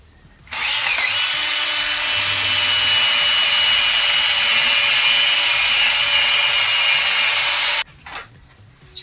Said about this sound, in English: I bought one of these wire cut brush, they're called, and I'm going to take it and hold it to the wood and try to make it look distressed